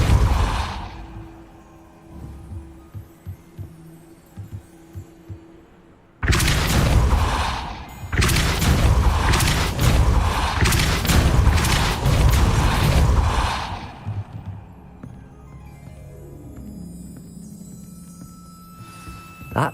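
A Depulso spell is cast in Hogwarts Legacy and sets off loud booming bursts of magic, then a long rumbling, creaking mechanism as a gate moves, before it fades back to quiet ambience.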